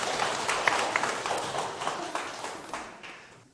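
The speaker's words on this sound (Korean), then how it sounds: "박수 한번 칠게요" Audience clapping during a Korean lecture, a broad dense wash of handclaps that holds steady and fades out near the end.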